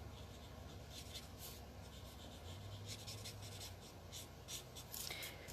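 Ink being blended by rubbing over a stamped paper image, faint soft scratchy strokes repeating in short bursts close by, with no talking.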